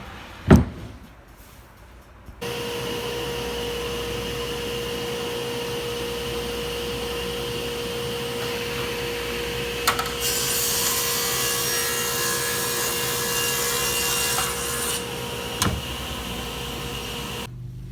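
A table saw runs up to a loud, steady whine after a sharp click, and a board is pushed through the blade, adding a harsher, brighter cutting rasp for several seconds before the pitch settles back to the idle hum.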